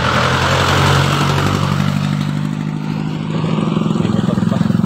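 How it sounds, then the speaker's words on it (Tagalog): Motorcycle on a seaside road roaring loudly nearby, its engine note swelling and then settling into a steady drone as it passes. "May motor pa."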